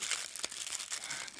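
Close, steady crinkling of a foil Magic the Gathering Zendikar Rising draft booster pack being handled, continuous rustling with small crackles and no voices.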